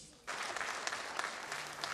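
A festival audience breaks into warm applause after a short quiet lead-in, and the clapping runs on steady and close to the end.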